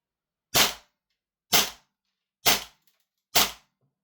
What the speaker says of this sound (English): So we're going to put a couple of more shots through.